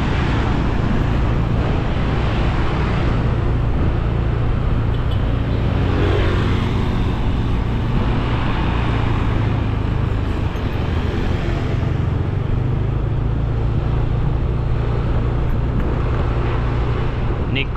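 A car drives along Pratama Street in Nusa Dua, Bali, with a loud, constant hum of engine and road noise that holds steady throughout.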